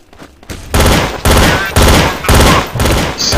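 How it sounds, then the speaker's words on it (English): Terrorist pistol in Counter-Strike: Source firing in burst mode: loud, clipped volleys of rapid shots repeat in an even rhythm, close and harsh, with only faint background. "use the terrorist pistol, switch to burst fire, shoot people"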